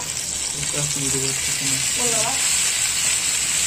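Prawns frying in hot oil, a steady bright sizzle throughout while they are turned; a voice speaks briefly under the frying.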